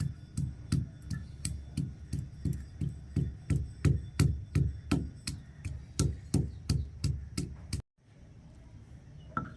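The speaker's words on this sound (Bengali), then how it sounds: "এই কুমড়োটা এবার আমাকে একটু বেটে নিতে হবে, সেই জন্য এই কুমড়োটা আমি বেটে নেব" Ash gourd (chal kumro) ground into paste by hand on a stone in a rural Bengali kitchen, a steady rhythmic series of about twenty knocking, scraping strokes, close and regular, stopping abruptly near the end, no talking.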